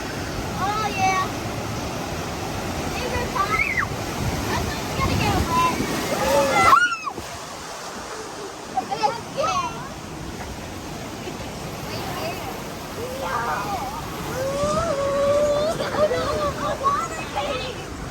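Rushing water and splashing surround a raft on the Congo River Rapids ride at Busch Gardens, with a waterfall drop midway, while riders talk and exclaim over the churning noise.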